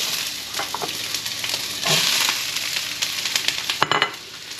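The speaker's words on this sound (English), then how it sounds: "I really want to kind of get a little bit of caramelization in the, in the pepper and onion. So the heat, it's pretty hot in the skillet." Peppers and onions for chicken fajitas sizzle loudly in a very hot skillet, a steady crackling hiss with bursts and sharp spits, swelling as food is moved about, with no voices.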